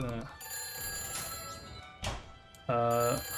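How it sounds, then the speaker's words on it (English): A telephone rings in a Nancy Drew video game, sharp trilling bursts at the start and end with a few clunks and scene sounds between, while a person speaks. "Phone?"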